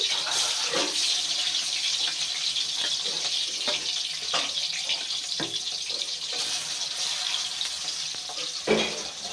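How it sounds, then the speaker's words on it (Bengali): Turmeric- and salt-coated katla fish pieces sizzle in hot oil used earlier for frying onions, a steady dense crackle with occasional louder pops, close and continuous without any talking. "লবণ হলুদ মাখানো কাতলা মাছগুলো তেলের মধ্যে দিয়ে দিচ্ছি।"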